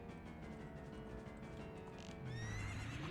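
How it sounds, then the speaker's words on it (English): A horse neighs and whinnies over steady clip-clop hooves in the video game Zelda: Ocarina of Time, the whinny rising loud near the end against a constant game soundtrack bed. "You can pick which one's the real one based on where the horse sounds are coming from. The clippy clops."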